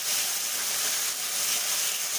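Green chilli and ginger paste is sautéed in a hot pan while cooking bhola fish with raw tomato. A steady, close, broad sizzle and hiss runs unbroken throughout with no other sounds.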